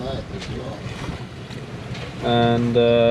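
A sailboat under way on open sea, bound toward Riga Bay with the wind behind it: steady wind and water rush, the hull moving through waves, joined partway through by a sustained tonal hum, with voices faintly present.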